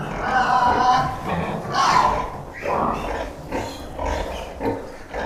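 Pigs and piglets on a farm grunt and squeal in a loud, close chorus, with bursts rising and falling in irregular waves.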